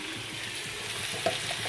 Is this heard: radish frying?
yes